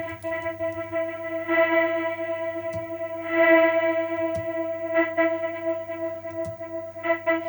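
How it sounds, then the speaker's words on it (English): Sampled vocal pushed through a filter and gate shaped by an XY pad, a sustained, heavily effected tone with echo and chorus that swells and chops as it is modulated, alone without speech. "In this case, it was affecting the filter and the gate."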